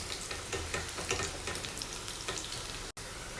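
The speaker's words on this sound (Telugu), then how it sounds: "ఇలా మధ్య మధ్యలో మిక్స్ చేసుకుంటూ ఫ్రై చేసుకోవాలండి." A tempering of red chilli sizzles and crackles in hot oil in a pan while a spoon stirs it, a steady near frying hiss with scraping strokes and a brief cut near the end, and no talk.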